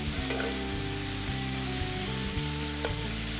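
Pork browns in a hot pan for a Southern pork-and-gravy dish, giving a constant close crackling sizzle with a steady low hum running underneath and no voices.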